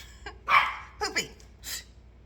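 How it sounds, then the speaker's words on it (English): A puppy gives a few short, high yipping barks indoors, three or four quick bursts spaced apart with quiet between them. "the puppy's going to bark"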